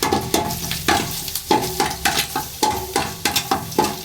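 Food sizzles in a hot pan while a spatula scrapes and stirs in a quick, repeated rhythm.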